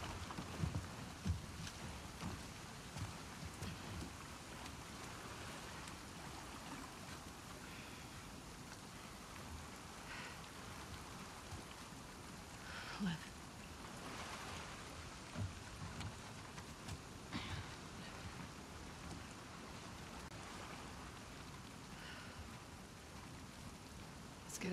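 Steady in-game rain in The Last of Us Part II patters across the whole stretch, a dense hiss with scattered drop impacts and faint low rumbles underneath, no voices.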